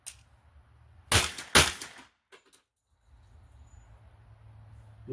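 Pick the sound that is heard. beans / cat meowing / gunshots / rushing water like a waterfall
gunshots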